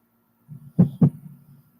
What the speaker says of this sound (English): Whose heartbeat was that I just heard?